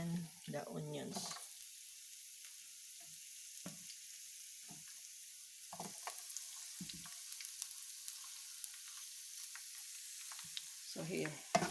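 Garlic and onions sautéing in a pan with ginger and laurel leaves, a faint continuous hiss with scattered soft clicks of a spoon and brief muffled talk at the start and end.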